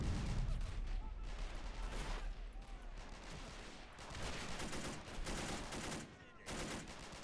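Rapid bursts of small-arms and machine-gun fire in a Men of War: Assault Squad 2 multiplayer battle, irregular volleys and shots layered close and far, with explosive thumps among them.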